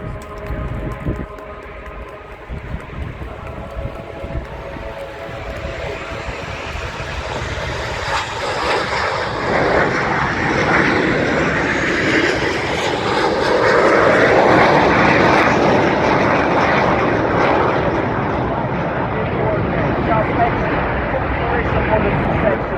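Military aircraft flying at the RIAT air show: a jet engine roar builds steadily from a distant rumble to a loud, broad pass, swelling toward the middle and lingering, with a commentator talking over it on a public address.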